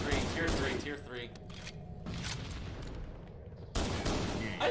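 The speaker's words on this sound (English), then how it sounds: "I just got sniped around the wall." Gunfire from a sniper rifle in a Halo multiplayer match on the Hang 'Em High map, sharp shots and bursts cutting through continuous game noise and overlapping voice chat, loud and near.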